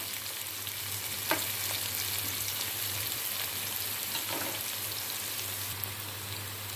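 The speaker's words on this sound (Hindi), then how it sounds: "अब मैं इसको मिक्स करके थोड़ी देर भून लूँगी।" Okra with onions, tomatoes, spices and dry coriander fries in a pan as the mixture is stirred, making a continuous soft sizzle broken by a couple of brief scraping stirs.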